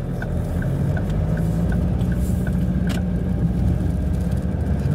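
Car driving along a suburban road past a hotel and school, a steady engine and tyre rumble running throughout at an even level with no talking.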